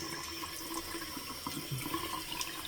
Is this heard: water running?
yes